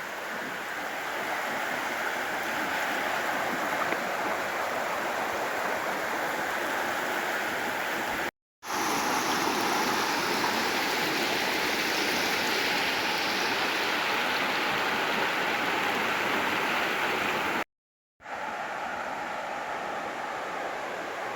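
Steady rushing of a stream flowing close by at a trail water crossing along the South Mills River Trail, a continuous broadband wash broken by two brief silent gaps, with no voices.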